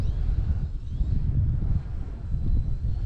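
Wind gusting across an RC flying field, a steady low rumble buffeting the microphone throughout with no voices.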